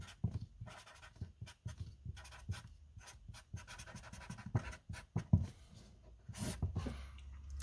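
A teacher writes on a classroom board during a lesson on pressure, flotation and upthrust: repeated close scratchy strokes in short bursts with brief pauses, steady and fairly quiet, with no talking.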